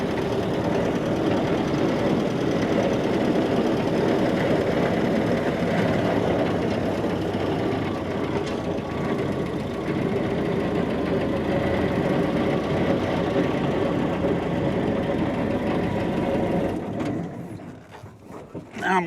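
Flatfender Jeep engine running steadily while driving with the clutch pedal held down, a continuous rough, rattling drone close by, fading briefly near the end.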